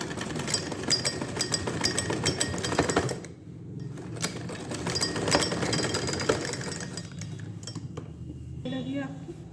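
A sewing machine stitches a bloomer, giving a steady, close mechanical chatter that pauses briefly partway through and then resumes, with a voice faintly present underneath.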